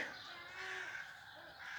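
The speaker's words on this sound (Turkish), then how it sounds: "denizden şu bulunduğumuz alana kadar 5 kilometre uçarak gelip çöp karıştıran martılarımız da burada" Faint seagull calls, cries with a thin tonal wail, rising over a steady background hiss with no one speaking, the gulls scavenging through rubbish at a site inland from the sea.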